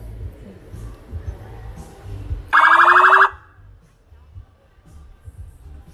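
Siren of a Ford F-150 electric police car at a car show gathering: a single loud, wailing electronic burst of under a second, rising out of steady crowd and street background.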